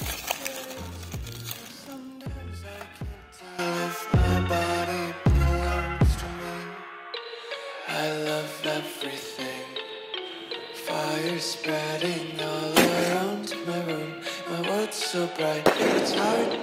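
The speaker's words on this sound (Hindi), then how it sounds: "अब हमारे पास टारविन का स्काई शॉट। तो चलिए देखते हैं कैसा फूटेगा।" Tarvin sky shot Diwali firecrackers burst in a rapid string of loud, sharp explosions, several close together at first, then a longer run of crackling pops and bangs continuing to the end.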